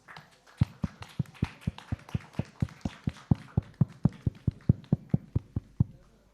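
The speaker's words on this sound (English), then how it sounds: "Let's give them a big round of applause" Loud, evenly spaced claps ring out at a medical conference felicitation, about four per second in a steady, close rhythm from start to finish.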